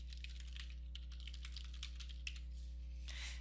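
Someone types a username on a computer keyboard: quick, light keystrokes clatter in short irregular runs over a steady low electrical hum, with no talking.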